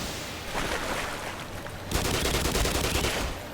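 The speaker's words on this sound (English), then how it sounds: "Oh, I guess the grenades were overkill." Grenade blasts in the video game Black Mesa: a loud burst of explosive crackle with a sharper, denser eruption partway through, continuing as rolling debris and rumble.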